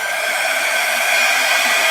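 A hair dryer blows in a continuous loud, broadband whoosh with a steady whine, running alone at close range during an acrylic pouring fluid art session.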